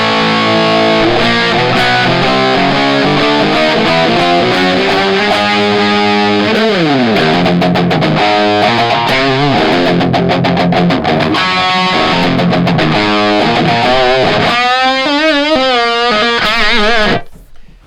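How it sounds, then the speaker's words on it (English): Electric guitar played through an amplifier's high gain channel, heavily distorted chords and single-note riffs ringing loud and continuous, some fast choppy passages near the end before the sound cuts off; no talking. "let's do the gain channel first. So we're into the high gain channel."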